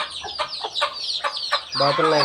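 Country hens cluck in short, repeated bursts close by on a farm with ducks, followed by a longer, drawn-out call at the end.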